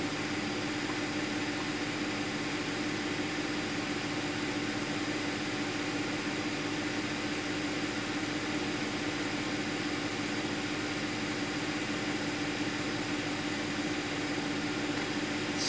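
A 2010 Audi Q5 engine idles steadily with a misfire, giving a continuous, even hum with a low tonal drone that holds unchanged from start to finish, close up and with no voices.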